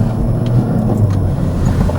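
A steady, deep exhaust drone from a 2025 Hyundai i30 N hot hatch in N mode, rumbling low and loud throughout with no talking.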